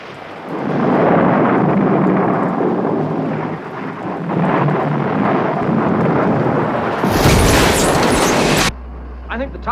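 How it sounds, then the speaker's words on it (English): Violent thunderstorm with crashing lightning strikes around a tower with a reflector, a dense roar of thunder and rain throughout, then a sharp crackling blast before it cuts to quieter electronic sounds. "The reflector is attracting the lightning like a magnet."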